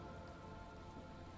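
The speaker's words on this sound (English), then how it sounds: "It's raining." Steady rain in the video game Disco Elysium, a faint, even patter of drops with no pauses for its brief run.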